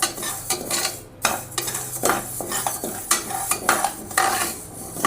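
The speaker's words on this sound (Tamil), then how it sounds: "லைட்டாக அந்த பாசிப்பருப்புலேருந்து வாசனை வர லைட்டாக தான் வறுக்கணும்" Moong dal dry-roasting in a pan for ven pongal, stirred with a metal spoon: continuous scraping and clinking of the utensil against the pan over a light sizzle, close up, with no voices.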